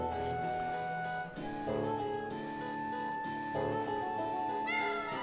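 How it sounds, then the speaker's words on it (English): Cats meowing in the video game Tales of Vesperia, set against a steady bed of melodic game music, with several mewing calls rising out of the mix at a moderate level and no voices. "The proper method of meowing."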